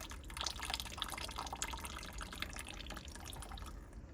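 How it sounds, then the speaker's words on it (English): Water from soaking mung bean sprouts is poured into a bucket, a steady splashing trickle lasting a few seconds, faint and close, with no voices. "I just pour that water into the bucket"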